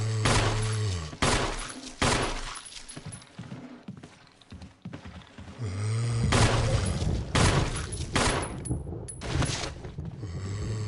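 Gunfire in the Resident Evil Remake game as a zombie is shot downstairs: several loud, close blasts in two clusters, each with a booming low tail, separated by a quieter stretch.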